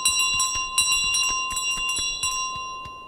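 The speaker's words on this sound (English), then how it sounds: "Okay, where am I supposed to put the bell?" Repeated bright metallic bell rings in quick irregular bursts, clear and close, with a steady high ringing tone sustained underneath, from Untitled Goose Game.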